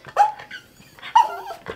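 A dog whimpers in two short, high-pitched whines, close by, with brief quiet between them.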